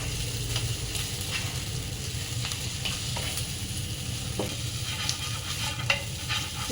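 Chicken fries in a hot pan with a steady, close sizzle, while a spoon or spatula stirs and scrapes through it in light, irregular clicks.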